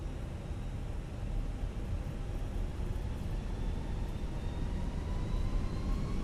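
Airbus A320 engines spool up in the Fenix flight simulator game, a broad steady roar with faint whining tones slowly rising underneath as the power builds.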